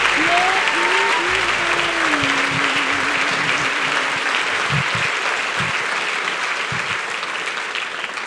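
A crowd at a film Q&A applauds loudly and continuously, a dense roar of handclaps with a voice briefly rising over the start, then steady clapping that slowly eases.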